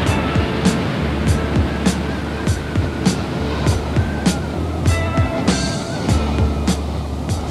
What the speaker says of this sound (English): There are enormous waves, but on the shore, the wind makes life uncomfortable now and again.